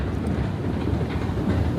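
London Underground train running at Earl's Court, a steady close rumble and rattle of carriages with wind noise, no talking.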